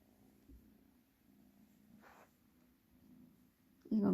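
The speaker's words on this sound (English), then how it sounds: "She's purring away so loud." A pet cat purring loudly while settled to sleep indoors, a soft, low continuous rumble heard close up, with a brief breathy sound in the middle and a louder noise at the end.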